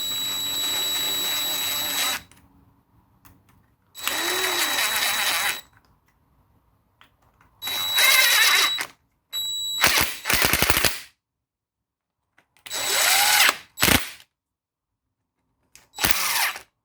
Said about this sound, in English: Grab our impact, and we're just going to snug them.